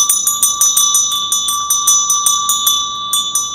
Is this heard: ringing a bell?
yes